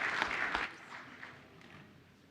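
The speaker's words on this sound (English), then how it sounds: "We have one more round of applause for those talented kiddos." Brief applause from attendees at a school board meeting for talented children, a short burst of clapping that quickly fades to a quiet room.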